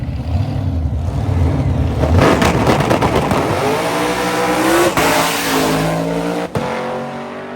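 Drag race car at Sick Week making a full pass, loud roaring engine climbing in pitch through several gear changes at close range, with a rising howl and a brief dip near the end and no voices.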